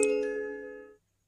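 A single bright electronic chime from a phone in a game, ringing once and fading out cleanly within a second with no voices.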